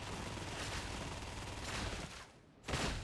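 A Veteran's recon lasgun in Warhammer 40K: Darktide mag-dumps into Crushers, a dense, unbroken stream of rapid energy shots that breaks off briefly and then resumes.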